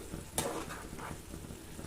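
Malai being sautéed in a pan for beet and carrot laddu, with a steady low sizzle and soft scraping stir strokes, one sharper clink of the spoon near the start, close and moderately quiet.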